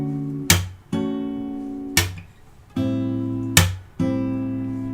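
Guitar working slowly through the chord progression, with percussive slaps between ringing strummed chords in a steady, unhurried rhythm, close and without voices.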